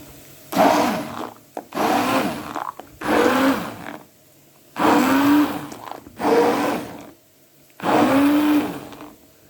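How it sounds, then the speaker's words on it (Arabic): A hand blender whirring through bessara, a purée of crushed fava beans, in six loud bursts of a few seconds each, separated by short pauses. "اهي يا جماعه البصاره بتاعتنا خلطناها بالهاند بلندر"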